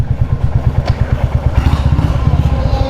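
A customized Royal Enfield Classic 350 motorcycle idles close by, its single engine giving a loud, even, rapid thumping beat that continues steadily throughout.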